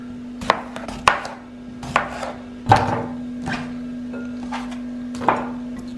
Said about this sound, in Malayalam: ആദ്യമായി നമുക്ക് ഈ കുക്കുംബർ ചെറുതായിട്ടിങ്ങ് അരിയാം.